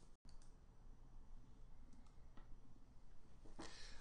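A faint single computer mouse click on a quiet desk, one soft tick standing out against a low steady background hiss.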